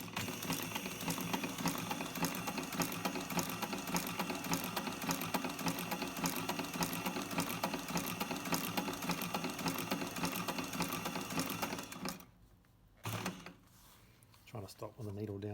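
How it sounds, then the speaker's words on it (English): A sewing machine stitches a calf seam on a long boot, a steady fast mechanical whir heard close and continuous for about twelve seconds before stopping, then brief short bursts. "Come on over here to the sewing machine, and we're going to sew all the way down there."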